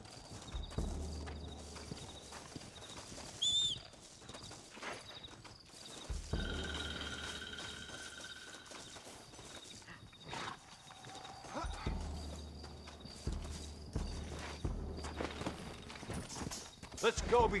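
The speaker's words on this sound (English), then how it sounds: "Looks like Carlos left us some horses" Horse hooves clatter in a steady galloping rhythm in Red Dead Redemption, with occasional whinnies, under stretches of talk and game music.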